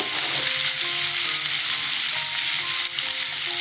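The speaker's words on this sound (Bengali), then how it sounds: "সর্ষের তেল দিয়ে দিচ্ছি আলুগুলো দিচ্ছি" Potatoes frying in hot mustard oil for a vegetarian cauliflower dalna, a dense, loud and continuous sizzle that holds evenly throughout with no talking.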